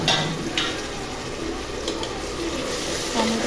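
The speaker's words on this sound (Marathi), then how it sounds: "शेंगदाणे व्यवस्थित लाल झाल्यानंतर त्याच्यामध्ये टोमॅटो टाकायचे आहे आणि टोमॅटो तेल सुटेपर्यंत परतायचे आहे" Tomatoes being sautéed in hot oil with roasted peanuts in a pan for soya chunk khichadi, giving a steady close sizzle and hiss throughout with occasional stirring scrapes.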